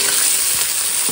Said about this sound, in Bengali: পেঁয়াজটা একদম লাল লাল করে ভেজে নিয়ে তারপরে রসুন আদা